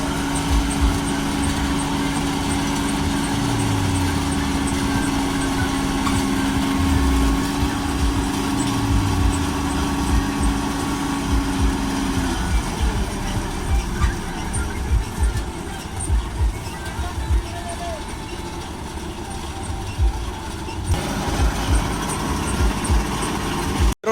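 An 855 tractor works in a wet maize field, its engine droning steadily at close range with low rumbling and a changing tone early on, then rougher, uneven bursts of load as it labours.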